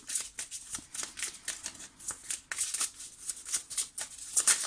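Tarot cards being shuffled and drawn, a quick series of close, crisp riffling and flicking bursts in an irregular rhythm, quiet and with no talking.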